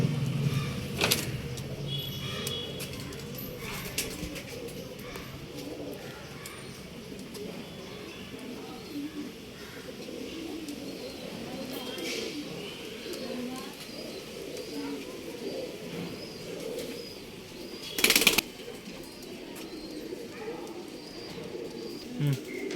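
Male pigeons in a loft in RT Nagar, Bangalore, give steady low cooing throughout, with a brief burst of wing flapping near the end and faint vehicle noise in the background.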